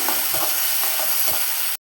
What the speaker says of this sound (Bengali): নামানোর পর পেঁয়াজ দিয়ে দিলাম।